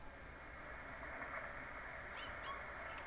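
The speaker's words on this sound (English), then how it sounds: "Oh, I'm starting to hear some static." Steady hiss of static from a Heathkit HW-101 radio receiver as it warms up, faint and constant throughout, with a few tiny chirps near the end and no talk.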